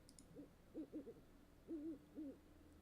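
An owl hoot plays from a phone search: a few faint, soft wavering hoots in a short rhythmic series over a quiet background.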